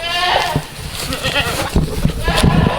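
Baby goats bleating close by in a barn, several loud overlapping cries in quick succession with some movement and background noise.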